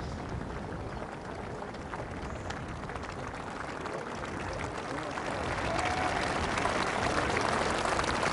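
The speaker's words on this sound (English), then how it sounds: "Generous applause for Phil Mickelson, favourite visitor to our shores." A golf crowd at the Scottish Open applauds Phil Mickelson with steady, distant clapping that swells slightly toward the end, heard over open-air ambience.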